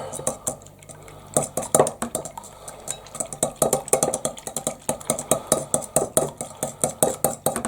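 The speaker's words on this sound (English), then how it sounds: "Give it a good swizzle round, give it a good mix, make sure it's all together." A French toast egg mixture is stirred briskly in a bowl, a fast run of repeated clinks and scrapes of utensil against the bowl, close and loud, with a brief pause before the rhythmic stirring settles in.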